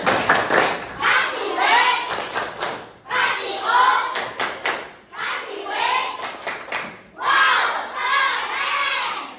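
A classroom of children shout together in rhythmic bursts of an Indonesian 'tepuk wow' clapping chant, clapping in quick patterns between the cheers, loud and close.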